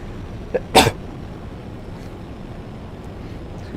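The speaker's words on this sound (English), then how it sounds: "when I'm going to sneeze again" A single sharp human sneeze during a No Man's Sky live stream, one loud burst, preceded by a small catch of breath, over steady background hiss.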